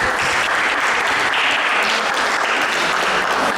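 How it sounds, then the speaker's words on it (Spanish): A church camp congregation bursts into applause, a dense, continuous wash of many hands clapping at close range, loud and even for its whole short length. "Puede darle un aplauso"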